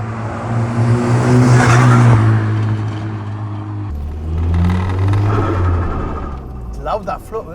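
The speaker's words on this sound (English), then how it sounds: "It's loud, that flutter, isn't it? There when you get the boost up." Turbocharged 400bhp Volvo-engined Ford Sierra P100 pickup, slammed, revs loudly up close, its engine rising and falling with fluttering as boost builds, while people talk over it.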